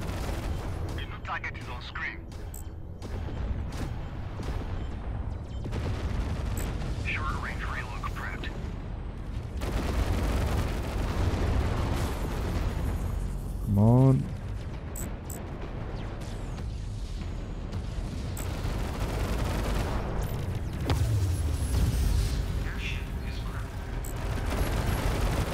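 Guns firing in the space combat game Fractured Space pound continuously in heavy, booming volleys with rumbling explosions throughout, dense and loud, with no speech.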